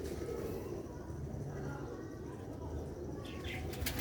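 Pigeons cooing faintly in a loft or coop among birds kept for sale, low soft coos under steady background noise, with a few brief higher chirps near the end.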